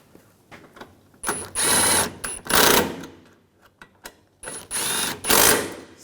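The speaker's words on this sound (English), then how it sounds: "put the bolts in, get those started in the center, and we'll tighten those down" Bolts on the AC condenser of a 2011-2018 Volkswagen Jetta are tightened with a ratchet. Two spells of rapid ratcheting clicks come up close, each one split into short bursts with quiet gaps between them.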